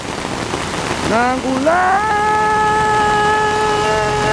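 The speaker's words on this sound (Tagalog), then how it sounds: "Tignan mo ang lakas ng ulan." Heavy rain pouring down steadily, a dense loud hiss throughout, with a person singing over it partway through.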